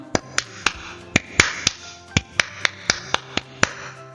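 A Scout clap, tepuk pramuka, done by hand: about a dozen crisp, close claps in a syncopated pattern of quick pairs and spaced beats, standing clearly alone over a quiet indoor background.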